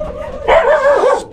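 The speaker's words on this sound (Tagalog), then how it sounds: "Aso sa baba." A dog gives a single close, loud bark, a short yelp, with some faint background noise and no talking.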